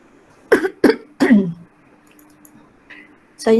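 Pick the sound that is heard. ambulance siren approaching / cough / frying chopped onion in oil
cough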